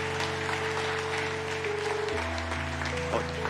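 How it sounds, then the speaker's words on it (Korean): A church congregation applauding during a Sunday service as a plaque is presented to an elder, soft scattered clapping over a sustained organ-like tonal drone that shifts pitch partway through. "따뜻한 박수 주시면 감사하겠습니다."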